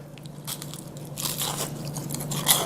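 Crunchy bites into a freshly fried, still-steaming fish fillet in thin, light, golden beer batter: close, crackling crunches and rustly chewing, loudest near the end, with no speech.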